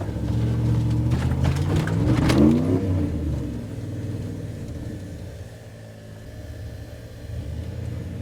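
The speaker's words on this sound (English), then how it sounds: "Rev her up a little bit too high." Pickup truck engine revving hard in four-wheel low on a wooded dirt trail, a loud close roar that swells to a peak then settles into a steady rumbling idle.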